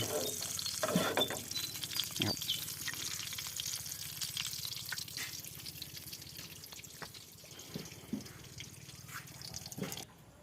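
Fish and crab sizzle as they fry in a pot, a continuous crackling hiss with occasional clinks and stirring knocks, fading slightly toward the end.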